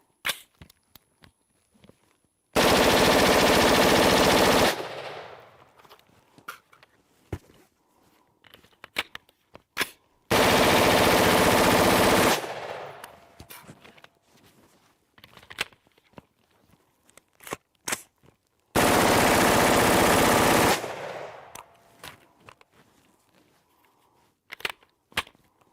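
Machine gun firing full auto with a Palmetto State direct gas impingement upper, three loud sustained bursts of about two seconds each, separated by quieter gaps with scattered clicks.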